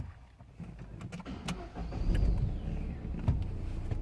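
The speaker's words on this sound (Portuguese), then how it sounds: "Agora eu vou dar partida." Car engine cranking and catching, a low rumbling start that swells then settles into a quiet steady run, heard close with no voices.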